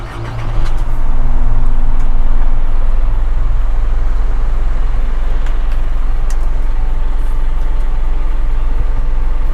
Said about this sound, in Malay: Okay, ini ialah bunyi enjin MPR Pro